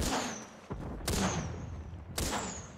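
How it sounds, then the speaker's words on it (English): Gunfire in a multiplayer shooter video game cracks out in three loud separate bursts, each a sharp blast trailing into a brief ringing echo. "there was gunfire coming at me"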